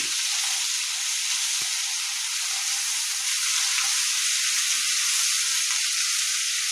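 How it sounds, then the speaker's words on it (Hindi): Garlic, ginger and chilli paste frying in a pan over medium heat for a spinach and egg curry, giving a steady, even sizzle with occasional soft stirring clicks. "एकरा 2-3 सेकेंड मध्यम आंच पर भूज लेबै।"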